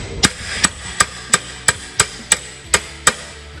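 Repeated hammer blows strike an impact screwdriver to loosen a bolt, about nine sharp metallic strikes at a steady rhythm, each close and loud, with no talking.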